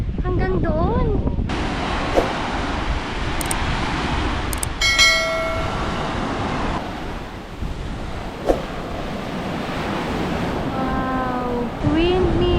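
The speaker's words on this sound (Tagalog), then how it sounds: "Napakalakas ng hangin." Strong coastal wind near Bangui windmills in Ilocos Norte roars steadily into the microphone, a dense rushing blast throughout, while people talk and exclaim over it.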